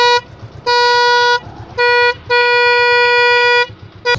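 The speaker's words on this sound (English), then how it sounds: "This is the single custom horn." A custom single horn fitted to a Suzuki Gixxer motorcycle sounds in loud, steady toots. There are three blasts of different lengths, with short gaps between them and a faint idling hum underneath.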